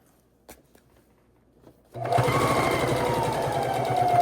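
A sewing machine stitches binding onto fabric, starting abruptly after a couple of seconds of near silence with faint taps and then running as a steady, loud mechanical whir to the end.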